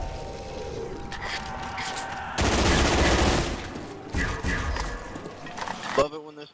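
Ray gun fire in the Call of Duty zombies map Kino Der Toten: dense, loud bursts of blasts that swell and fade over several seconds, mixed with a game voice and noisy action.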